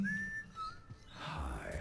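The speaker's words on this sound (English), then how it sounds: "McCree's whistling, what is this?" McCree, a cowboy hero in the Overwatch video game, whistles a short, thin tune of a few sliding notes, fairly faint beneath game noise that swells toward the end.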